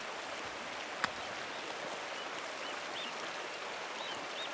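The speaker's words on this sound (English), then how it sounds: "the waterfall must flow down from the snow melt in the mountains above the abbey" A waterfall in the Pentiment video game pours as a steady broadband hiss of rushing water with one brief sharp click and faint chirps, heard alone at moderate distance.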